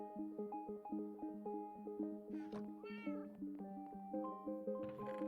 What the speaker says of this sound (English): And then this is a cat.